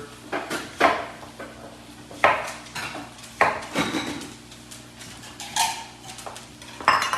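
Apples diced with a knife on a cutting board in a cooking skills lesson: irregular bursts of clattering knife strikes and board knocks, close and fairly loud, with short pauses between the runs of cuts.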